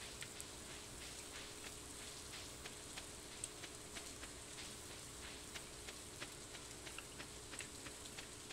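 Rain falls as a faint, steady patter in the Stardew Valley game, a constant soft hiss with scattered light drop ticks and no talking.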